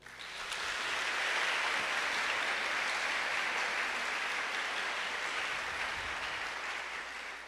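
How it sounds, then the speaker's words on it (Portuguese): A church congregation applauds in praise, a dense, steady wash of many hands clapping that swells in, holds evenly throughout, and tapers slightly at the end. "Pode aplaudir."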